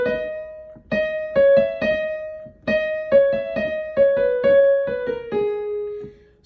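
A piano plays a trumpet melody as a bright, clear single-note line with rhythmic repeated notes that descend at the end, alone and close.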